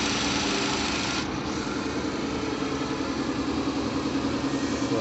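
A 2014 Ford Focus engine running steadily after a new alternator belt was fitted, a dense continuous hum and whir held close and fairly loud, with no voices over it.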